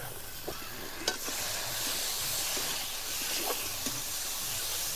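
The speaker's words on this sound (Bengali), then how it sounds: "মশলাটা ভাজা হবে যতক্ষণ না মশলা থেকে তেল ছাড়বে" Chili paste and Kashmiri chili powder frying in oil for a katla fish and cauliflower curry, a soft continuous sizzle with a few scraping stirs of the spoon.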